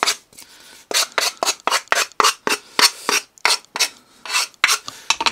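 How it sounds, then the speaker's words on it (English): Old sandpaper rubbed back and forth over wood during a virtual pinball cabinet build, giving a series of about fourteen loud, rhythmic rasping strokes, each a short scratchy burst separated by brief pauses. "Quite old, that piece of sandpaper on there, but it still just works."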